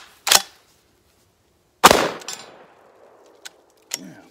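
Two loud, sharp shotgun blasts from a Century Dynamics shotgun loaded with a 2-round magazine, each followed by a ringing tail, then a few faint mechanical clicks and clacks from the action.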